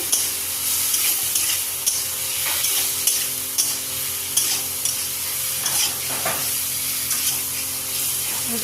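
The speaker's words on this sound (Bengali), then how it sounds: "এখন দিয়ে দেব ভেজে রাখা আলু আর বেগুনগুলি, দিয়ে একটু কষিয়ে নেব।" Pre-fried potatoes and eggplant being stir-fried in spiced masala, a loud continuous sizzle punctuated by regular scraping strokes of a spatula against the pan, close and with no speech.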